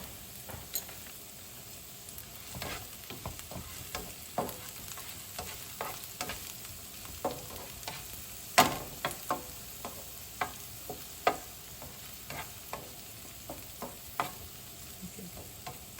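Rice stir-fried with green onion in a pot: steady soft sizzling with repeated scraping and stirring strokes at irregular intervals, plus a few light utensil clinks, close and quiet.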